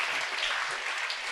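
A children's religious assembly bursts into dense, even clapping that fills the whole short moment, with no voices over it.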